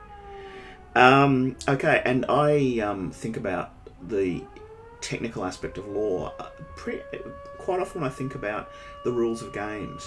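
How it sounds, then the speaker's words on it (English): A distant fire brigade alarm siren wails in a steady rising and holding tone beneath a person talking close by. "if you can hear that, that's the local fire brigade alarm going off."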